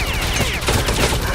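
Rapid bursts of gunfire in the video game Stalker Clear Sky, dense and continuous, loud and close throughout the short stretch with no talk over it.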